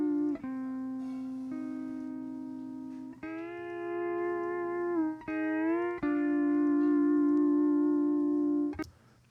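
Mixed music track with an acoustic instrument, its high mids lifted by an equalizer boost at 5.6 kHz; sustained tonal chords shift through several sections, loud and continuous with no talking, ending in a sharp transient.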